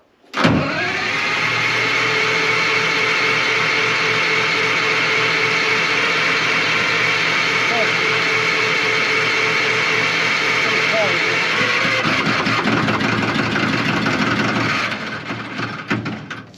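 A LeTourneau Westinghouse scraper's Detroit 4-71 diesel, idle for years, runs loud and steady close by after starting, holding a constant drone and roughening near the end as the throttle shifts.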